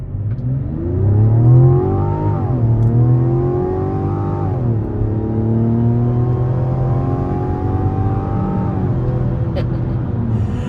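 A 2024 Mazda CX-90 turbo engine pulls hard from inside the cabin, a loud rising drone that climbs through gears with brief dips at each shift, sustained for about ten seconds without talk.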